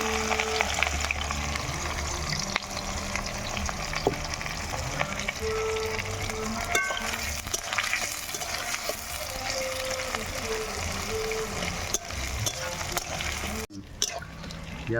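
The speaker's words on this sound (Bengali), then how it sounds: "পেঁয়াজটা লাল লাল করে ভাজা হয়ে গেছে" Sliced onions frying in oil in a pan with a dried red chilli and whole spices, a steady sizzle with occasional stirring scrapes throughout, then a brief break near the end.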